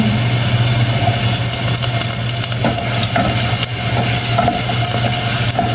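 Ginger dropped into a hot frying pan for chicken Bicol Express, a steady loud sizzle and crackle with faint stirring scrapes, no voices.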